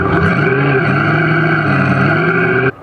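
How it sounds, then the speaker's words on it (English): An aftermarket sound generator on an electric car plays a loud, steady engine roar with a deep rumbling tone that holds constant for a few seconds, then cuts off abruptly near the end. "aftermarket sound generator, which will allow electric cars to make noises so others can hear the engine roar"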